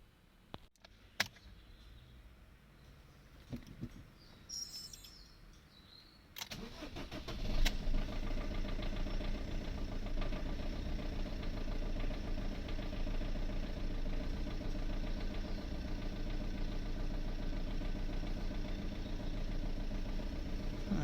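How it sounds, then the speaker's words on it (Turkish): After some faint clicks and quiet, a Fiat Linea engine cranks and starts, then settles into a steady, close rumbling idle that runs on without change; the car has a white exhaust smoke problem. "Artık aracımızı çalıştırdık."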